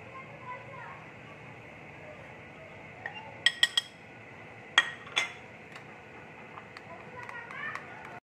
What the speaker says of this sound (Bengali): দুধটা আমি এবার ভালো করে গুলে নেব।